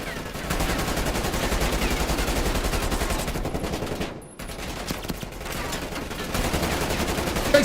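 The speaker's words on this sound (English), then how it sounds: "That one exploded." Video game explosions and gunfire in a killer-chase game roll on as a loud, dense barrage for several seconds, cut by a brief near-silent gap, then resume at full strength.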